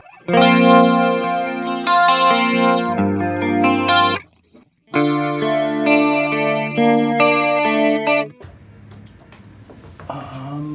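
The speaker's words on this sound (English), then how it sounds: "it does a tri-stereo chorus, plus it'll also do a little detune effect at the same time" Sustained chords run through a Roland Dimension D rack chorus set to tri-stereo chorus with added detune, producing a shimmering, widened tone across two long phrases with a brief gap, close and prominent, trailing into quiet handling noise at the end.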